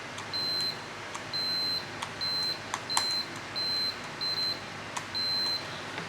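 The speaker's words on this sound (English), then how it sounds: "you cross the leads or short the leads and you get a beep" Repeated steady electronic beeps from a multimeter in continuity mode as leads touch connector pins, some beeps long and some short in an irregular sequence, with faint clicks of the probes between them.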